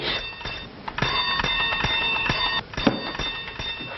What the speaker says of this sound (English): Oh, stop ringing that bell.